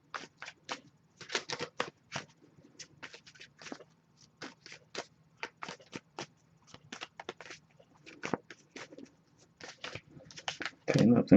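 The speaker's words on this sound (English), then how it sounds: "but I'll give a few more shuffles like we did for yours" Tarot cards shuffled repeatedly, quick crisp riffling bursts in an irregular rhythm, close and fairly quiet, with pauses between passes.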